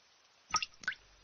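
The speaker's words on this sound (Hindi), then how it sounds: "ये अचानक से पानी कहाँ से लीक करने लग गया?" Cartoon water drips twice in quick succession, two soft, wet plopping drops close up in a quiet room, as in a Doraemon episode set in a hotel.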